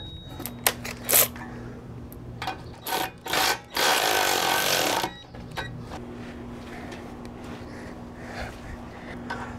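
Wrench tightening control arm bolts on a 2002-2006 Honda, a series of sharp metallic clicks and short ratcheting bursts, then a longer loud ratcheting run, followed by faint handling noises over a low hum.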